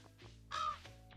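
Crows caw in the farm game Stardew Valley, a loud harsh call near the middle of the moment standing out over steady game music and ambient tones.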